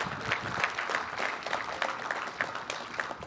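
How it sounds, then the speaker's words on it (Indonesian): Audience applauding at an inauguration of gas infrastructure in Batam, a steady, moderately loud round of clapping from a crowd with no talk over it. "Kita boleh tepuk tangan kepada driver yang itu."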